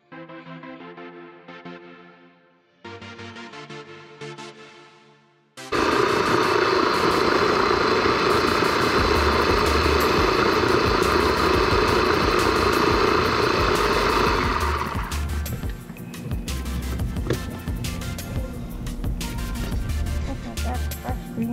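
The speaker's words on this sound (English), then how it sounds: "we are just going to put it in a mini chopper and ground it up really fine." Mini chopper grinding fresh green seasoning of thyme, garlic and pimentos, a loud steady motor whir that starts abruptly after some quiet clinking, runs for about ten seconds, then eases off into lighter rattling.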